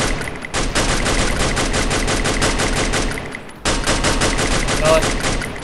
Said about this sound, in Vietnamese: Một bạn trẻ nó đang bắn nhau ở bên dưới.